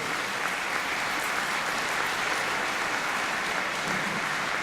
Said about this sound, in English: Y'all need to give Donnie Harrison a round of applause.